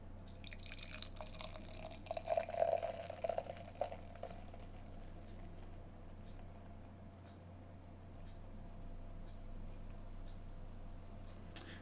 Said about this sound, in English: The theatrics of a 5-minute pour.